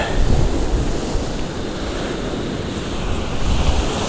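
Strong wind buffets the microphone at the seashore while cod fishing, a loud continuous roar mixed with surf, with no talking.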